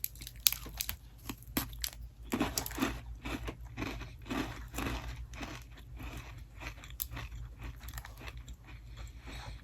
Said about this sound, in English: tastes just like a regular Biscoff cookie